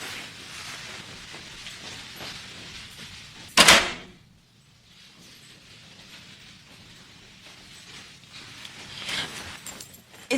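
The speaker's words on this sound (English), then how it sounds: "and then I hear doors slamming" A door slams once, sharp and loud, partway through a quiet indoor stretch in Chicago. Faint room noise and low shuffling come before and after the slam.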